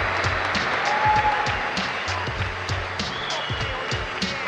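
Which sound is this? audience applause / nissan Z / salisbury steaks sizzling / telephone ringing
audience applause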